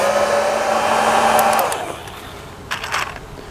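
A heat gun warming drip irrigation tubing blows with a strong, steady whooshing roar for about a second and a half, then cuts off, followed by a few faint plastic clicks.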